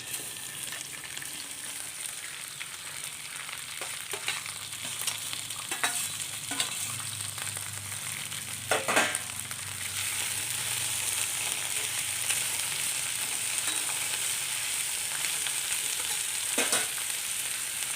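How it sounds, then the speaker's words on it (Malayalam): Chopped okra fries in coconut oil in a pan, giving a loud, steady sizzle throughout with occasional scraping and stirring clicks close by. "ഒരു പാനിലേക്ക് 1 ടേബിൾ സ്പൂൺ വെളിച്ചെണ്ണ ഒഴിച്ചിട്ടുണ്ട്. അതിലേക്ക് ഈ അരിഞ്ഞു വച്ചിരിക്കുന്ന വെണ്ടയ്ക്ക ഇട്ട് കൊടുക്കാം."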